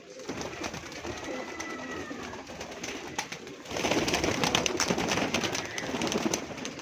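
Domestic pigeons cooing in soft, repeated low calls nearby, with other bird chirps around and a louder rustling, fluttering stretch in the second half.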